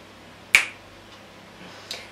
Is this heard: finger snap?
yes